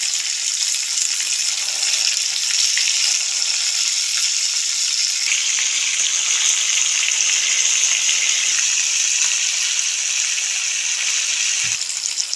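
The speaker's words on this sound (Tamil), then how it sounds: "இப்போ வந்து இந்த எண்ணெய்லாம் இப்படி வந்து தெரிக்குது" Chicken varuval fries in hot oil, giving a loud, continuous, close-up sizzle with steady spattering and crackling throughout.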